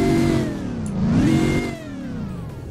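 A supercharged Dodge Challenger Demon engine revs up hard in a Roblox video game, pitch climbing and falling in a sustained, loud roar with no talking.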